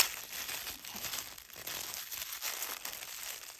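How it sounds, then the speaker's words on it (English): Wrapped package being torn open by hand, a steady stretch of crinkling, tearing paper or plastic with no speech. "I'll probably have to tear this"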